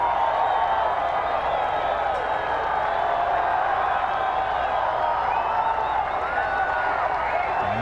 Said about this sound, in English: He's happy with the applause.